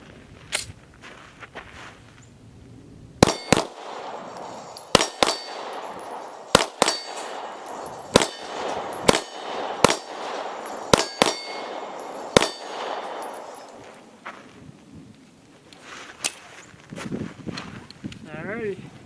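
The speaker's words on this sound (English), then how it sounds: "Now we're going to run a mag of our South African ammunition through here." An FMK 9C1 G2 9mm pistol fires South African ammunition in a run of sharp, loud shots, mostly in a quick irregular string, then a few more spaced out near the end, with ringing metallic clangs and outdoor ambience between them.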